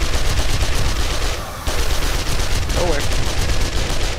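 Submachine gun fire in the video game 7 Days to Die, a continuous loud rattling burst running through the whole stretch, with a voice briefly speaking over it.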